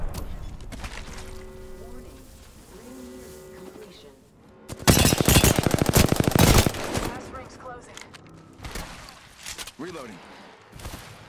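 Gunfire erupts in the game Apex Legends, a dense burst of rapid automatic shots in the middle, with quieter game sounds and voices before and after.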